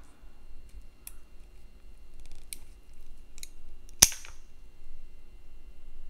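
Garden pruners snip through dead, brown Cattleya orchid roots, a single sharp snap near the mic standing out from a quiet background with a few faint clicks before it.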